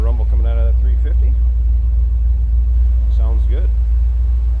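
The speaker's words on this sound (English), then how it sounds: "Nice little rumble coming out of that 350." A deep, steady V8 exhaust rumble from a 1979 Chevrolet Corvette's 350 engine at high idle runs throughout, with someone talking briefly over it near the start and again toward the end.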